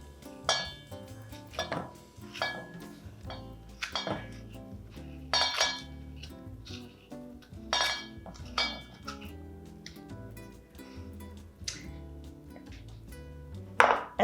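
A metal spoon clinks and scrapes inside vegetables being hollowed out for Armenian dolma, in sharp irregular taps and knocks with short pauses, close by and with no talking.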